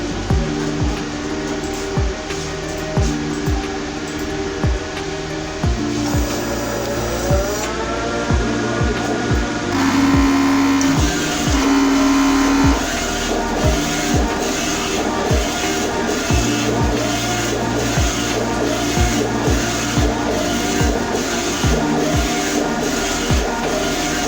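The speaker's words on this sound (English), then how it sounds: "send a print to this machine now so that we can demonstrate that the printer will still print effectively regardless of that color" An Epson XP600 inkjet printer with a yellow nozzle fault runs a print job, giving a loud stream of motor whirs, rhythmic carriage passes and mechanical clicks that shift pattern partway through.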